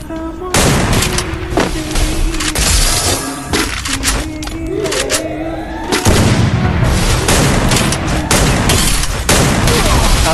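Dense video-game gunfire as shotgun and sniper players fight, loud close bursts of shots and booms packed tightly throughout, running without pause.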